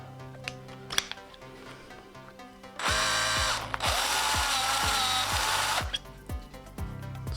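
A pen blank is tightened in a lathe chuck with a power driver, giving a close burst of buzzing whine with a rapid ratcheting clicks, paused briefly midway and then resumed before stopping.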